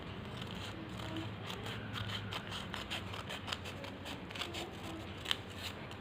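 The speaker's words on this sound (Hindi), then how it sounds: "अब मैं इसे इस तरीके से फोल्ड करके इसकी पतली पतली स्ट्रिप्स को कट करना है।" Scissors snip repeatedly through thin strips of folded waste packet material for a tea light candle holder, a steady run of close, crisp cuts with light crackling and no talking.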